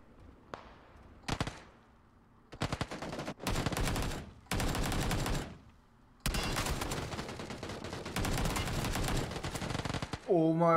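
Rapid automatic gunfire from a PUBG death-cam replay on the Erangel 2.0 map, heard as several loud bursts of shots separated by short pauses, with a long sustained burst toward the end.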